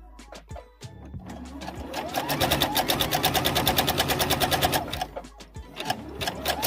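Domestic sewing machine set to its longest stitch, running gathering threads through fabric: a few brief taps, then a rapid steady mechanical chatter for about three seconds, stopping again, close and moderately loud.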